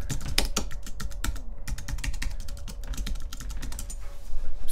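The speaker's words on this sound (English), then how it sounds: "here's where you type in your email and your password" Rapid, steady tapping on a computer keyboard as an email and password are entered, close and clear, with no talking.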